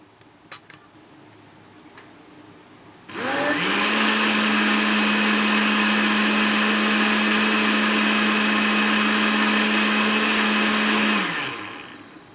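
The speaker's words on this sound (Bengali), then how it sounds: "ব্লেন্ড করে নেব সব কিছুকে একসাথে" An electric blender whirs cold milk and fruit for sharbat, starting abruptly with a loud steady motor drone and high whine that holds for about eight seconds before winding down.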